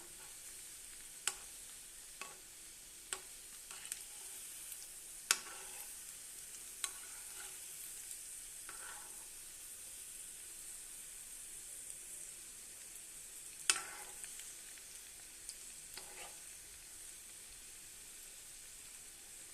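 Snacks deep-fry in a pot of oil, a faint, continuous bubbling sizzle with scattered sharp pops and crackles throughout, no one talking.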